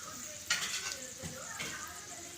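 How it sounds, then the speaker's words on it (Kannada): Urad dal frying in hot oil in a pan for brinjal curry, a steady close sizzle with a few stirring scrapes. "ಒಂದು ಸ್ವಲ್ಪ ಉದ್ದಿನಬೇಳೆ, ಸ್ವಲ್ಪ ಫ್ರೈ ಆಗಲಿ"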